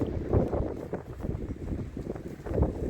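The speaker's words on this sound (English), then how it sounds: "A little windy today." Gusty wind buffeting outdoors beside a screened porch, a steady low rumble with louder surges near the start and end, close to the microphone, with no talking.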